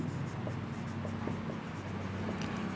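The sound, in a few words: writing the solution while explaining a math problem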